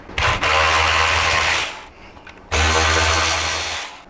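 Two loud, close bursts from a power driver backing out screws with a number 25 Torx bit on a Harley-Davidson Touring fender, split by a short pause, with no talk.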